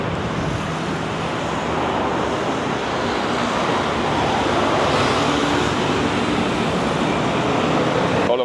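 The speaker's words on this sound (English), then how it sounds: "Very noisy on the street. Motorbikes." Heavy street traffic and motorbikes rush along Phetchaburi Road in Bangkok. The roadway noise is a loud, continuous wash of engines and tyres with no clear breaks.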